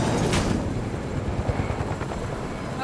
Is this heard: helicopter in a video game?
yes